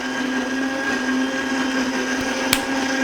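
A plant milk maker blends oat milk with a steady, loud whirring drone and a strong even hum, joined by one sharp click near the end.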